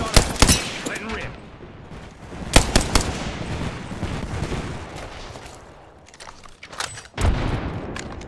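Gunfire in a ranked Apex Legends match comes as sharp bursts and rapid volleys, loud and up close, with pauses between them.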